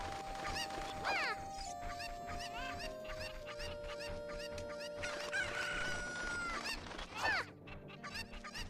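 Cucco chickens in The Legend of Zelda: Ocarina of Time cluck and crow over looping game music, several bird calls overlapping in quick bursts throughout.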